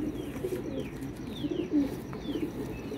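A female flying pigeon coos softly in low, rolling murmurs, with several faint bird chirps scattered above it and no voices.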